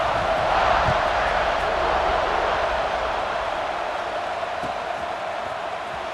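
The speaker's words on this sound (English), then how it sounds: "this crowd is buzzing after that last score" A stadium crowd in the College Football 26 video game keeps up a steady, dense roar and murmur, holding at an even loudness for several seconds with no single cheer standing out.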